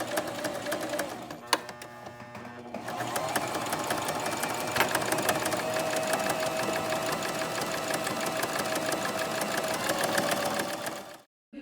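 A sewing machine stitches a fabric face mask in a continuous, fast mechanical rattle, with a brief pause near the start and an abrupt stop at the end.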